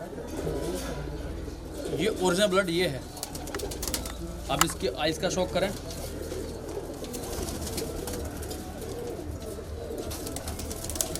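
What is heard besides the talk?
kalpare high flyer pigeons cooing in loft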